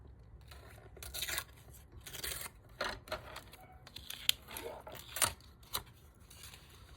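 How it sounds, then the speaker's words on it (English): Paper is torn by hand in a quiet room, several short ripping bursts scattered across the moment, close and fairly soft, with small rustles between tears. "I'm going to tear that down just a little bit."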